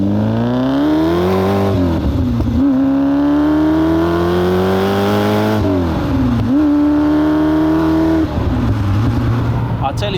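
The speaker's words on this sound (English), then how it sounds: "It makes a very distinctive sound, that V8, because of its unusual 72-degree flat plane layout." A 1996 TVR Cerbera's 72-degree flat-plane V8 revs up loud and close, climbing through several gear pulls with brief dips between shifts, while someone talks over the steady engine drone.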